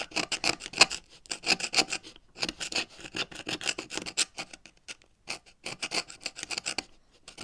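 Parts of a faulty Kenex toy motor are scraped by hand in quick rhythmic rasping strokes, grouped in bursts with short pauses between them, close and moderately quiet with no one speaking.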